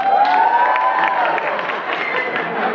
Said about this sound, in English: Let me get a round of applause to the women that date a skinny guy